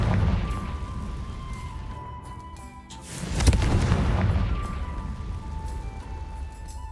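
A Confringo blasting spell explodes in the Hogwarts Legacy game, a single deep boom bursting midway and rumbling away over a few seconds, over steady low game ambience with no talk.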